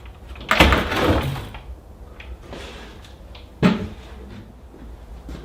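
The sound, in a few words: drawer sliding open and shut, sticking on tight runners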